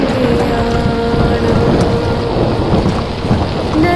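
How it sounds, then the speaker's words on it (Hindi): Heavy thunderstorm rain pours steadily on the walking route to Gaurikund on the Kedarnath trek, with thunder rumbling through a dense, loud, continuous wash of rainfall and no speech. "तूफानी बारिश व कड़कड़ाती बिजली के बीच।"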